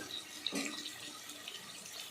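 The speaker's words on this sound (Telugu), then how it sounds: "ఎసరు పోసుకోవటం" Water poured into a pot of rice with fried onions, a soft steady splash running about two seconds after a brief clink, fairly faint and close, with no voices.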